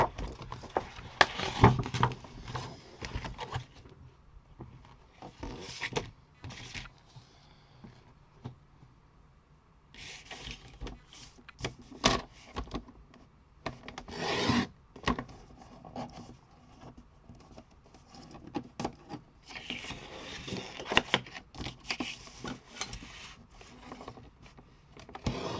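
A paper card motif is cut out by hand with scissors, giving quiet, intermittent snips and rustles with pauses in between, set against a cluttered desk.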